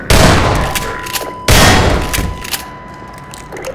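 Two loud shotgun blasts from the Half-Life 2 video game, each a sharp boom followed by a decaying rumble, spaced about a second and a half apart with some mechanical clatter in between.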